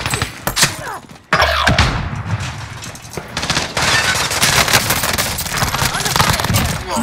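Rapid bursts of automatic gunfire and scattered single shots crack loudly in a Warzone match, dense and overlapping with thuds, while a player talks over the firefight.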